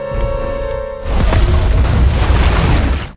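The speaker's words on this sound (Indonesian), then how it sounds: "melihat mobil berisi narkoboy bernilai ratusan juta dolar hancur di ledakan Sei" An explosion destroys a car loaded with drugs in an action film, a sudden heavy boom after a sustained tone, followed by a dense, rumbling blast that lasts to the end.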